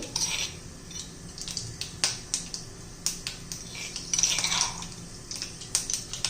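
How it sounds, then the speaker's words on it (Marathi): Cumin and mustard seeds crackling in hot oil in a pan, a scatter of sharp pops and sputters at irregular intervals over a low background sizzle. "जिरी मोरी तडतडली"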